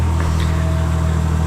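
A Nissan 240SX S14 with a swapped RB engine idles steadily, a close, constant low drone with no revving or talk.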